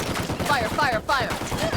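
Gunfire during a firefight in the video game Tom Clancy's Ghost Recon, with rapid repeated shots running throughout alongside a voice shouting over the action.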